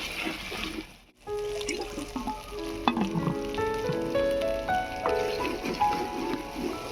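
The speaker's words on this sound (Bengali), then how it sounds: "আদা রসুন পেঁয়াজ লাল লাল করে ভেজে নেব" Ginger, garlic and onion fry in a clay pot, a close crackling sizzle with bubbling pops and occasional spoon knocks, briefly interrupted near the start, then continuing steadily without talk.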